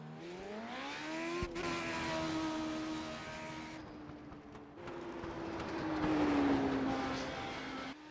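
A race car engine revs and shifts through gears as it accelerates on a track, a loud close whine that climbs, steadies and rises again over several seconds, with no talking.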